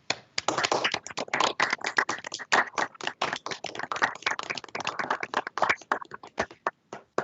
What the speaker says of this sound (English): give a round of applause to all the new attorneys